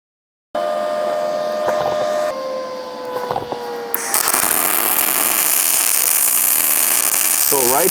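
An HTP Mig 2000i MIG welder laying a bead on steel at 550 inches per minute and 22.5 volts, a loud steady crackling sizzle with humming tones, preceded by a brief silence.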